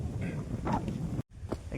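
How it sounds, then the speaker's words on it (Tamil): Strong gusts buffet the microphone at a hill-station viewpoint in Matheran, a loud continuous roar that briefly drops out before surging back, with speech mixed in. "செம காற்றுங்க."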